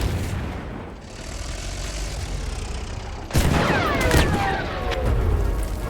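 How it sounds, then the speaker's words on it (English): A tank cannon round ricochets off enemy armor in Battlefield 1, a sharp, loud metallic impact with ringing, whistling overtones, heard suddenly over a steady rumble of distant gunfire and battlefield noise. "so you hear that round bounce off"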